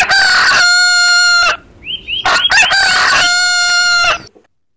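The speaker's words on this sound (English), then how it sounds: "H for hen" Loud, close crowing calls from a chicken in two long bursts, separated by a short pause with faint chirps and clucks.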